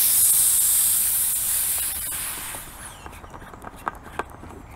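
Nemo Helio LX pressure shower, a portable camping shower, hisses loudly at full pressure before the spray fades out, followed by a few sharp taps and clicks close by.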